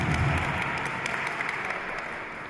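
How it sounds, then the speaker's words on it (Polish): Applause for the youngest kindergarten group, a steady wash of clapping from a small audience that holds evenly for the whole stretch, fairly close and moderately loud. "Brawa, brawa, brawa dla nich."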